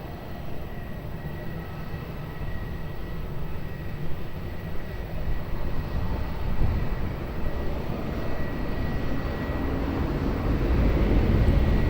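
A passenger airliner taking off from runway 20 at Lisbon Airport, a broad, distant engine roar that swells gradually and grows louder toward the end, with no talk over it.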